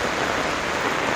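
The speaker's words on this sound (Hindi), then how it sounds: "बहुत तेज बारिश होता।" Heavy rain pours steadily in an Indian village, falling onto a flooded road, a dense, even hiss of drops with no break and no voices.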